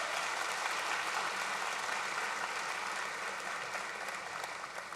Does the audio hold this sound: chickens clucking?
no